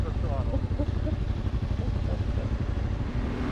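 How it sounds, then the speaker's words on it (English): An adventure motorcycle on a Black Hills trail revs as the rider opens the throttle, a loud, steady engine rumble with rough mechanical clatter running throughout. "So I opened the throttle."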